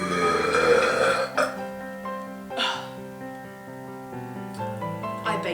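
A woman belches several times in a row, producing long, drawn-out, croaky burps up close with brief pauses between them.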